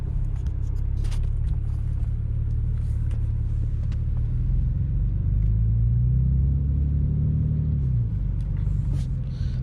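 A BMW E90 335i with the N54 engine sets off and drives, heard from inside as a steady low engine rumble and road noise, with a rising tone mid-way as it pulls away and gears change.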